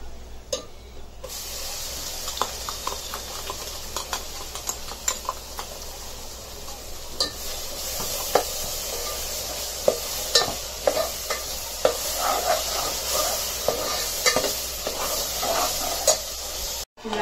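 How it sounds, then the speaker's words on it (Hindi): A ground masala paste with turmeric fries in a pan for a Konkani crab dish, with a spatula scraping and stirring repeatedly over a constant close sizzle and no one speaking. "ये मसाला पीस के लाए ना वो लेके उसके अंदर अच्छे से भुनेंगे अच्छी खुशबू आने तक भुनेंगे"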